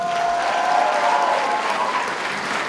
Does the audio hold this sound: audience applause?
yes